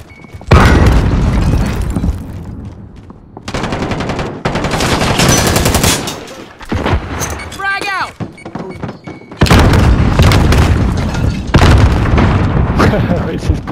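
Loud booming blasts and gunfire from an online military shooter game, with heavy explosive bursts separated by brief gaps and voices shouting over the action.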